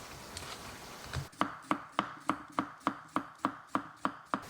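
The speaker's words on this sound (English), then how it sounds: "I'm gonna cut these cucumbers really thinly." Knife cutting cucumbers thinly on a cutting board, about ten crisp, evenly spaced chops ringing out close and clear after a brief rustle at the start.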